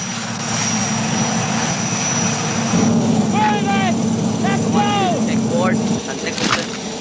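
A military helicopter carrying an airborne demolition party drones steadily and loudly in the air, while whistling chirps and a voice are briefly heard over the engine noise.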